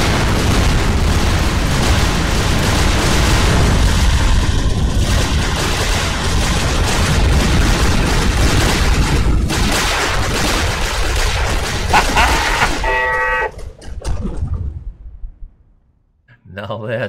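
Concentrated gunfire and explosions in a video game, a dense, loud, continuous barrage of booms and bursts that keeps on for about thirteen seconds, then breaks into scattered pops and falls away into near silence, with voices talking over parts of it.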